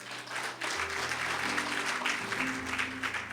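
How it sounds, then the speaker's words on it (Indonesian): Soft applause from a church congregation during a Sunday worship service, steady clapping over sustained keyboard chords, fairly distant and quiet throughout. "Boleh tepuk tangan apapun."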